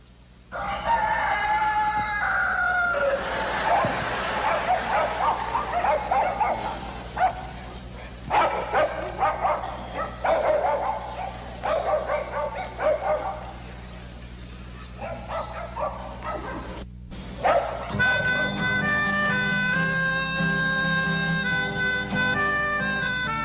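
Loud, close dog barks and high yips come in irregular bursts over a steady low hum, with a brief gap before a denser stretch of calling at the end.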